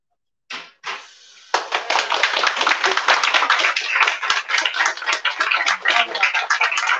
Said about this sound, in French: Non, mais applaudissez-vous, allez-y